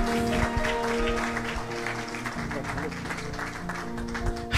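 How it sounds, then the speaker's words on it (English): Church congregation clapping hands in welcome as a guest preacher comes forward, steady dense clapping mixed with organ or keyboard tones and crowd voices throughout. "Would you give him and the Lord a good hand clap as he comes?"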